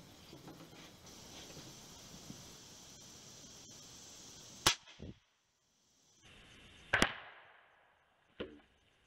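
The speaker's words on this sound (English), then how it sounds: "So we'll get back to shooting." Three sharp, isolated gunshots ring out during outdoor target shooting, each followed by a short fading echo, with quiet gaps and faint insect-like background hiss between them.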